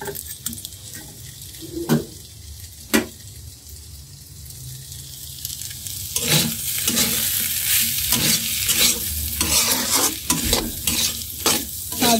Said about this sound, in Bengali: সকালে খাওয়ার জন্য ভাজি বানাচ্ছি।